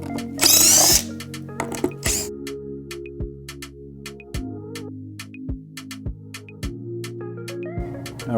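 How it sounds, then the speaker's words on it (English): Power drill backing temporary screws out of a custom-built wooden art crate: a steady low motor whir with repeated sharp clicks and short bursts, close by, with no talking. "First, we're gonna take out all of our temporary screws that we put in here."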